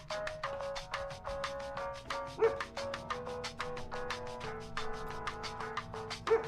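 A dog barks and yips in short, repeated bursts while performing tricks, with a couple of louder yelps standing out over a steady tonal background.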